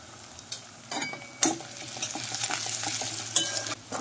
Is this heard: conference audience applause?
no